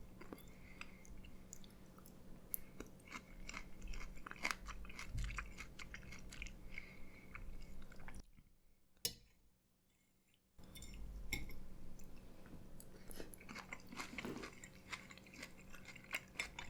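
Crunchy Indian snacks chewed close up, with repeated crisp bites and crunches in an irregular rhythm and a brief quiet pause midway, no talking.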